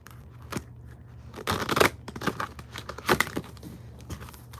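Tarot cards are shuffled by hand in a few quick riffling bursts, crisp papery flutters separated by softer handling sounds, close to the microphone with no talk.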